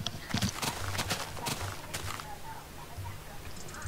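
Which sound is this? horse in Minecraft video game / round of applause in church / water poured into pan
horse in Minecraft video game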